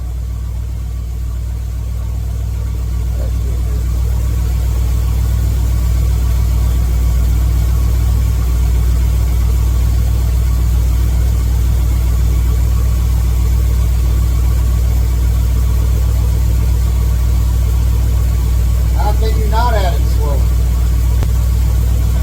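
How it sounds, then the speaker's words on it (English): A warmed-up car engine idles steadily during an engine-treatment additive test, a loud low constant hum that swells slightly at first, with a brief voice near the end. "Okay, so we got it idling."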